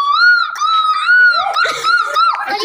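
A voice imitates a koel's call in a series of high, rising and falling whistled notes, close and loud, with several repeated phrases and some breathy laughter-like sounds.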